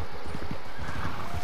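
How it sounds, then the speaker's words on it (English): Horse whinnying over clip-clopping hooves in a video game, close and steady, with outdoor ambience; the horse is spooked. "Oh, my horse got spooked."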